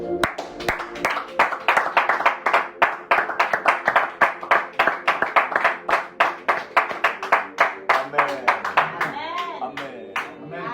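A church congregation clapping in steady rhythmic unison to give thanks to God, loud and sustained, with voices rising alongside toward the end.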